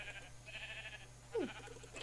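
One short sheep bleat from the Minecraft video game sounds once, faintly, over quiet background game tones.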